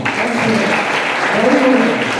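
At a college tobacco control committee program with a quiz competition, an audience applauds the management with a thick, continuous roar of clapping that stays loud across the whole moment, with voices mixed in.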